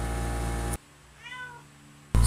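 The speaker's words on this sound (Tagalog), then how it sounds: "dinig nyo na naman ang pusa ko na gusto na namang humingi ng chicken" A house cat gives a single short meow while begging for chicken, faint and between louder bursts of background noise at the start and end.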